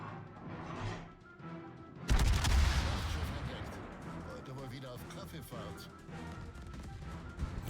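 A powerful naval gun blast in World of Warships booms suddenly, its heavy rumble and crackling debris trailing off over several seconds amid continued battle noise.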